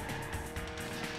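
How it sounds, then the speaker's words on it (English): Race cars roar steadily in the Walt Disney World Magical Racing Tour video game, a dense, continuous engine and tire noise lasting about a second, with no break or distinct crash hit. "And cars crashing all over the place."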